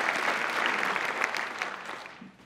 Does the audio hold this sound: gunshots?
no